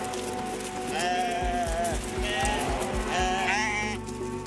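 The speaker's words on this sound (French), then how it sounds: "C'est l'heure de descendre ses 160 brebis." Sheep from a flock of 160 ewes bleat on a Swiss alpine pasture in the Valais Alps near Champéry, several overlapping calls close by and fairly loud over a steady background.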